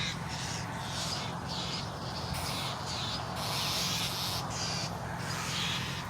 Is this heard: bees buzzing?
no